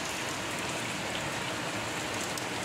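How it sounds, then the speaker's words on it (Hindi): Heavy rain mixed with falling snow pours steadily outdoors, a dense, even hiss of drops drumming on surfaces with no pauses and no voices. "कितना बारिश हो रहा है।"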